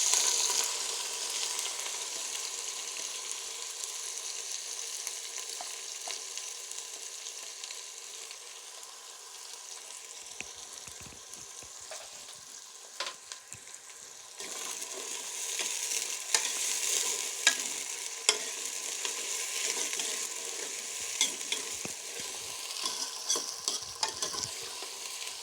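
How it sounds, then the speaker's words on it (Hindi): Sliced onions fry in oil for a Kashmiri red kidney bean dish, a steady close sizzle broken by scraping stirs of a spoon against the pan, with a brief quieter stretch midway. "अभी हमने अपना स्लाइस किया हुआ प्याज इसमें ऐड कर देना है।"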